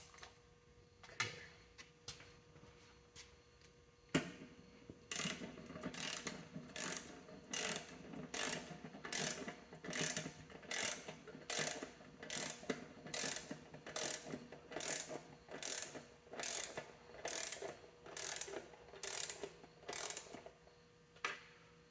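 A ratchet clicks in quick bursts while tightening cylinder head bolts crosswise on a 1959 Clark Clipper forklift engine, with repeated rapid ticking strokes close by in a quiet workshop.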